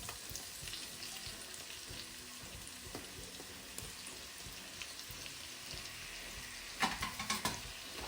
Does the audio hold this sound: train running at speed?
no